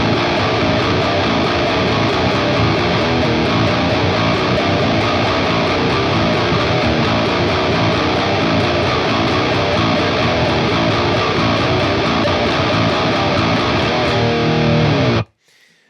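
Distorted electric guitar chugs through a driving power-chord riff, loud and continuous, cutting off abruptly near the end.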